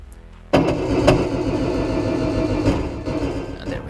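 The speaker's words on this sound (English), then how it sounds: "there we have both the engines running" Both ship engines in Stormworks start up with a sudden loud onset, then settle into a steady, dense mechanical rumble with a low hum and faint rhythmic pulsing that continues to the end.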